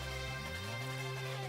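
Ivor's theme from the video game Pokémon Legends Z-A, a dense, sustained orchestral passage with steady held tones and a gently rising line, playing loud and continuous with no voices.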